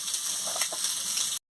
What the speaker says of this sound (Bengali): ভালো করে ডিমটাকে আমি ভেজে নিচ্ছি।